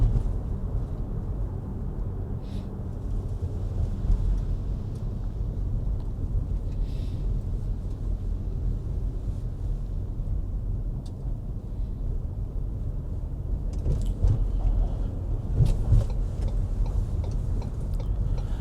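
Steady low road-traffic rumble on a street where one lane has been closed, a continuous, fairly loud drone with occasional faint clicks and knocks above it and no voices.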